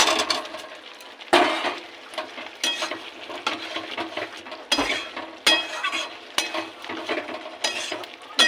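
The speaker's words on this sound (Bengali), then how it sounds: "এবার দিয়ে দেবো ভেজে রাখা আলু" Fried potatoes tossed into cooked spice masala for an egg and potato curry, stirred with a spatula in a hot pan, giving steady scraping and sizzling with sharp clinks of utensil on metal throughout.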